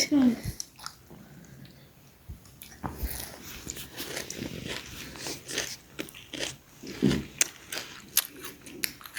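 Crunchy spiced puffed rice mixed with tomato, coriander leaves and green chili chewed up close, repeated crisp bites and crunches with people talking in between.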